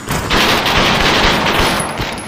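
Rapid continuous gunfire from the VR shooting game Aim XR, a dense, loud, close burst of automatic shots with no pauses.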